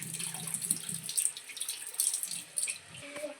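Water runs steadily from a tap as someone washes beneath it, a soft close splashing with faint bumps and no clear talk.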